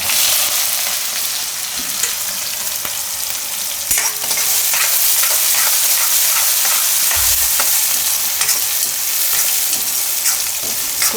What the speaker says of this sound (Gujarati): થોડીકમાં ડુંગળી ફેરવી લેવાની